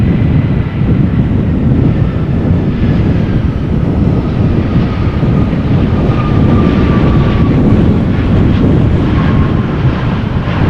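An airliner arriving from Zagreb roars at Amsterdam Schiphol Airport during Storm Pia, its loud, steady engine rumble mixed with heavy wind buffeting the microphone throughout.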